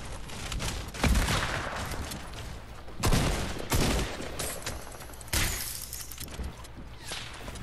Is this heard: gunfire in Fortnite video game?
yes